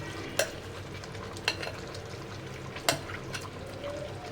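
Ground masala paste is stirred into Malvani chicken frying in a large pot, a steady sizzle under occasional sharp scrapes and knocks of the spoon against the pan.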